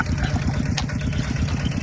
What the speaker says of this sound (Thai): เทคโนโลยีมาช่วยหน่อยนึงมีรถไถนา